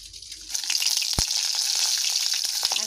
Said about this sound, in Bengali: আগে আমি শুকনো লঙ্কা আর কাঁচা লঙ্কাগুলো ভেজে তুলে নেব